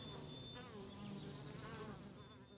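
Steady buzzing from honey bees gathering nectar on Thassos, a continuous drone with shifting pitches as individuals fly close, no voices.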